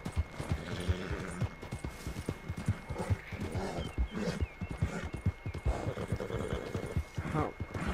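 Rapid horse hoofbeats clatter steadily in a quick galloping rhythm in the video game Red Dead Online, close and busy, with a faint high electronic tone running underneath.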